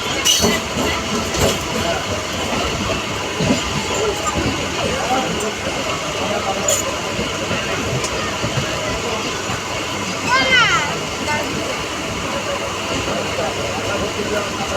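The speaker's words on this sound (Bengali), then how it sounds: "আর একটা ট্রেনের সাথে রেস হচ্ছে" A suburban train runs on rails toward Baruipur with a steady loud rumble and rhythmic clatter of wheels heard from inside a carriage, a brief squeal partway through, and passengers talking throughout.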